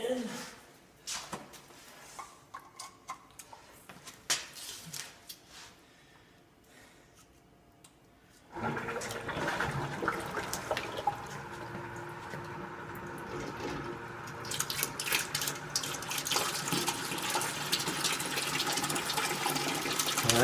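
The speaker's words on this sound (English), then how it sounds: "So the pump can just pump recycling it through." Water sloshing and gurgling as a pump recirculates vinegar water through a Paloma tankless water heater during a flush; quiet at first, then a steady louder rush of churning liquid for the rest.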